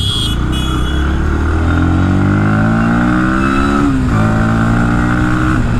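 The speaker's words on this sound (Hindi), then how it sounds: "क्या ही एग्जॉस्ट नोट प्रोवाइड कर रहा है" A 2024 Bajaj Pulsar NS 160 motorcycle accelerates on a road, its loud exhaust note climbing in pitch, dropping briefly at a gear change and rising again.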